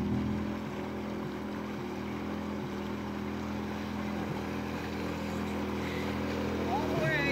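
A motorboat engine runs while slightly misfiring, producing a steady droning hum with wind and water noise around it. Voices seem to be faintly present in the background.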